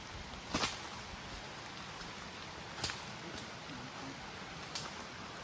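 Steady broadband hiss of rain falling in a forest, with a few soft louder drops or knocks now and then, fairly quiet and with no voices.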